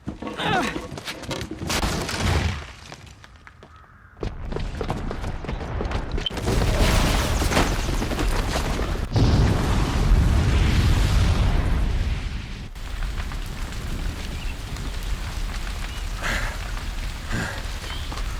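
Explosions and crumbling debris rumble through a bomb-defusal scene in a fantasy video game, a booby trap going off with heavy, sustained roaring blasts and noisy rubble that swell loud after a brief lull and carry on for many seconds.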